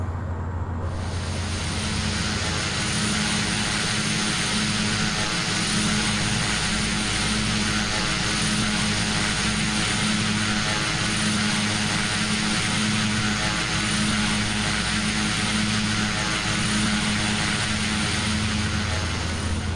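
A Pilatus PC-12 turboprop in a flight simulator on short final, its propeller engine droning loud and steady throughout with a constant low hum and no speech.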